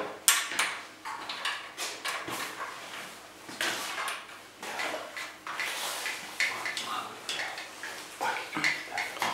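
Bicycle headset nuts tightened with two wrenches after a washer goes between them: repeated close metallic clinks, scrapes and taps in uneven bursts, with a voice speaking at times.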